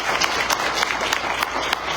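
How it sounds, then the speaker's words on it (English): Audience applause at a South Carolina House District 49 Democratic primary debate, welcoming the candidates; a steady, dense wash of clapping from a crowd, fairly close and continuous for the whole stretch. "just give them a round of applause to candidates"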